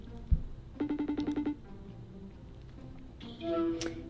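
A phone rings during an outgoing call, with a short burst of repeated ringback tones followed by quieter line sounds and a faint tone near the end.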